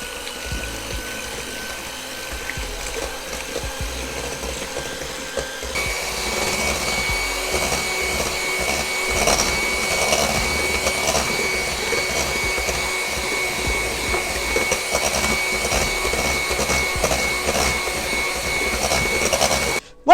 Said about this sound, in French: nous avons monté donc les blancs en neige